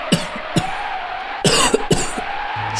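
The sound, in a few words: coughing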